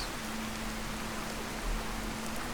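Rain falling in the Fallout 4 game world at a rebuilt settlement deck, a constant soft hiss of droplets with a faint low hum beneath, even and unbroken from start to finish.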